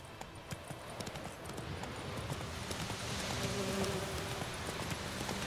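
Roach, a horse in The Witcher 3 video game, gallops with steady rapid hoof clip-clops over a soft outdoor wash, fairly faint and with no talking.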